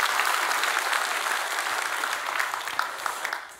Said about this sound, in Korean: 우리 크게 박수 한번 해주세요